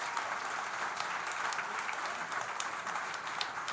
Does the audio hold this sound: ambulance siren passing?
no